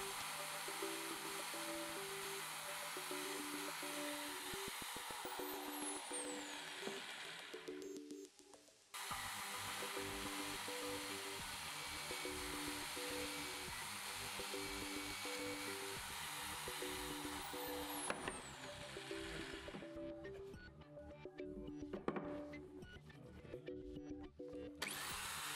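A column drill fitted with a CNC bit boring through melamine-faced MDF: a steady motor whine runs throughout, with a short pause near the middle and a rougher cutting rasp toward the end, close and loud with no talk.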